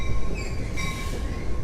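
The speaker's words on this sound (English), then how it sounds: "There's the train coming right there." A New Jersey Transit train passes close by, a loud continuous rumble of wheels on rails with high metallic squeal tones held across the whole stretch.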